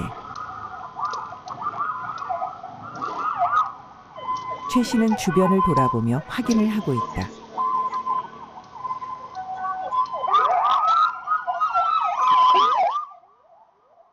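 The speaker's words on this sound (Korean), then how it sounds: "어디선가 들리는 구급차 소리." An ambulance siren wails nearby, rising and falling with a Doppler-like sweep as it passes a delivery rider on the street, while someone talks over it and traffic noise fills the gaps.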